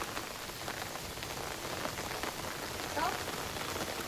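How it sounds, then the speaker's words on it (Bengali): Steady rain pours down continuously, a dense, even hiss of drops hitting surfaces nearby with no pauses across the whole stretch. "এই যে বৃষ্টি থামার নাম নেই, আজকে আর বৃষ্টি থামবেও নি"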